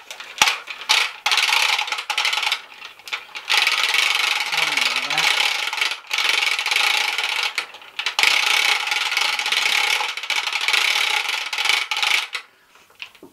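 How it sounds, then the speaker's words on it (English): A vintage MOTU toy vehicle being wound up by its head gives a steady, close, dense mechanical ratcheting whir that runs in bursts with short pauses between turns. "I like to just wind it up by its head"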